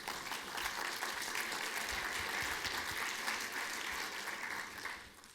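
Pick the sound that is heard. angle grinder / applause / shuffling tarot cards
applause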